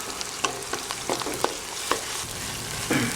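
Ginger garlic paste frying in oil with browned onions, a soft steady sizzle broken by quick scraping stirs and clicks of a spoon against the pan, close and fairly quiet with no talking.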